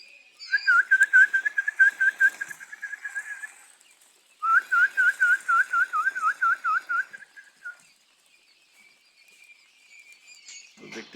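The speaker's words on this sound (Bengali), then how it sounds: "তো পাখিগুলো দেখেন কীরকম সাড়া দেয় আমার ডাকে।" A person whistles repeated rapid trilling calls at quails kept for sale, in two long bursts, with brief faint bird responses near the end; close and clear against a quiet background.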